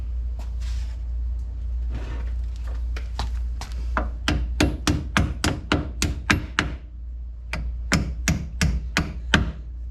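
A hammer taps on a brake caliper of a Dodge Hellcat, driving out the pins, in quick runs of sharp metallic knocks, a few slower strikes first then rapid bursts, close and loud in a quiet garage.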